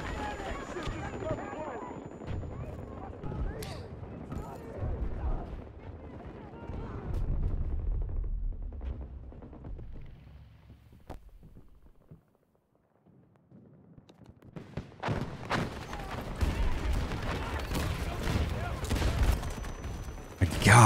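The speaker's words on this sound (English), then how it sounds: "they are just bombarding this space with grenades and everything" Grenade blasts and gunfire in Battlefield 2042 during a 128-player Rush match, dense booming explosions and shots rolling almost continuously, a brief lull midway, then heavy fire again.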